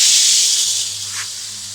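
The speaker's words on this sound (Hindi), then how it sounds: "इसका मुँह खोलकर मैं इसमें से गेहूँ निकालना शुरू कर दूँगी" Wheat grain pours out of the opened mouth of a household grain storage tank in a village home. It makes a steady, close, hissing rush that eases slightly over under two seconds, with no talking.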